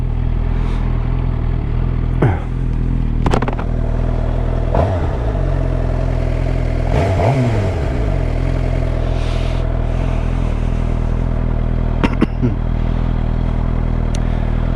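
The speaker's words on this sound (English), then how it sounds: "Is it me, or does this bike sound better lately?" A motorcycle engine drones steadily while riding, loud and close with a constant low rumble and heavy wind buffeting, with a few brief clunks and passing traffic sounds throughout.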